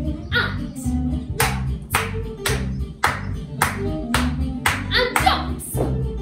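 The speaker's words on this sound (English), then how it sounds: "Ready for those claps." Sharp, evenly spaced hand claps during a children's ballet class for ages 4 to 7, marking each jump, about two per second over soft piano accompaniment, close and clear.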